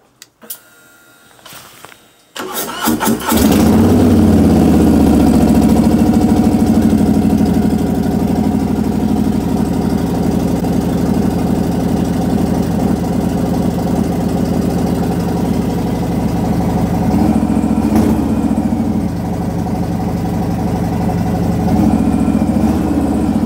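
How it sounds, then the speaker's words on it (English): A Harley-Davidson Street Bob 114 fitted with an SP Concepts exhaust starts up after a short, quieter lead-in, then settles into a loud, steady, deep idle rumble that stays strong and close for the rest of the clip. "we're going to go ahead and turn down the bike so you guys can hear the exhaust"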